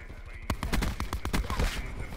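Rapid bursts of gunfire from a weapon in a Call of Duty-style Hardpoint match, a dense string of sharp, loud shots filling the clip with no talk.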